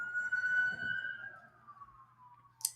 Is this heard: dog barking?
no